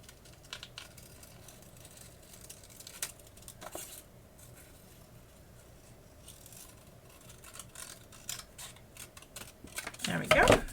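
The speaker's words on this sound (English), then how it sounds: "We are going to fussy cut that." Scissors fussy-cut around a paper heart shape, giving soft irregular snips and rustles of paper at close range, with quiet speech in between and a louder crinkle near the end.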